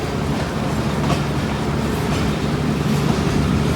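The 147 Up Mianwali Express rolls along its rails after leaving Malakwal Junction, a steady, continuous low rumble with faint clickety-clack running throughout at close range, no voices.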